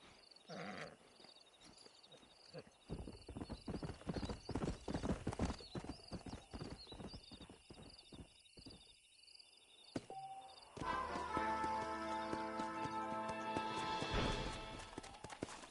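Stallion hooves clip-clop in Red Dead Redemption, a rhythmic run of close hoof beats that speeds into a gallop, followed by a louder stretch of game music and ambience with no speech.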